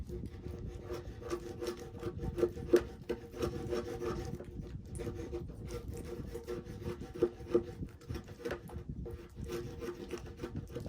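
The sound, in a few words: razor blade cutting wood fibers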